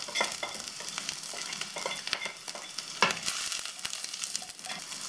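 Chicken masala with ginger garlic paste, crushed chili and turmeric being stir-fried for keto chicken dry: continuous sizzling broken by frequent scraping stirs, with one sharper stroke midway, close and without talk.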